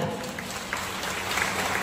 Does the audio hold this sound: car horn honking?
no